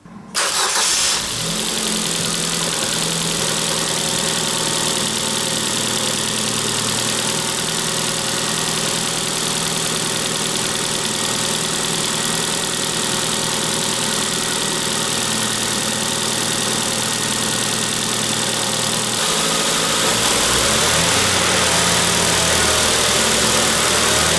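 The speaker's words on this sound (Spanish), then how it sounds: "voy a arrancar primero el coche" A car engine cranks and fires up, then settles into a steady, loud idle that drones on, shifting slightly in pitch near the end.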